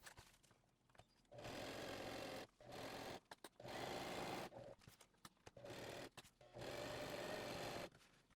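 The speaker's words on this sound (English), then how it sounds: "you're just going to put a stitch in just to hold it in place down the bottom 3 edges" A sewing machine stitches the bottom and side edges of a fabric tactical pouch in bursts of steady mechanical whirring, running several seconds at a time with short pauses between runs, close and clear.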